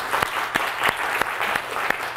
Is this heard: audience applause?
yes